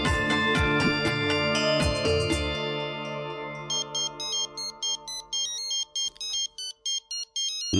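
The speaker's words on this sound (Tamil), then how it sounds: "இந்த ஃபோன் அடிக்குது பாரு" A phone ringtone plays alone in a Tamil TV serial scene, starting as a rich chiming melody and then switching to a steady run of short, bright, evenly spaced electronic beeps that repeat loudly and close by.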